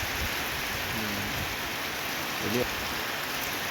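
Steady hiss of rain falling outdoors, a broad continuous wash throughout, with a brief voice speaking over it.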